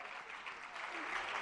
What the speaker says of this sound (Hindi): सभी जोरदार तालियां एक बार बजाएं।